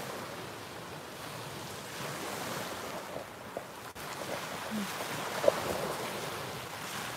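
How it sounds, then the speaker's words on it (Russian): Sea waves roll and break steadily at sunset, a continuous wash of surf mixed with wind buffeting the microphone, with a couple of small knocks and no talking. "не перебивает ли шум моря то,"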